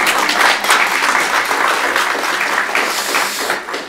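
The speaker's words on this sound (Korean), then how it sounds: "나 설교 중간에 박수 받아본 건 처음입니다" A church congregation breaks into applause in the middle of a sermon, with a dense, sustained burst of many hands clapping at full volume in a large room.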